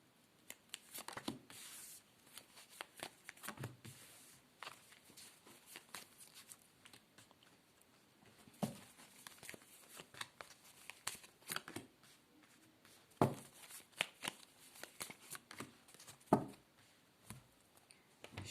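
Tarot cards being shuffled and handled up close, with soft repeated riffles, slaps and papery flicks in an irregular rhythm, quiet and without talking.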